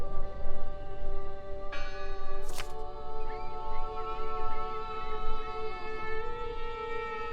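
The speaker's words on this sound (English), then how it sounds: "Listen! The bell! They're still in there!" A church bell in Draugen rings as a sustained metallic tone with long, shimmering harmonics over a soft ambient bed, with a sharp clack partway through and no one talking.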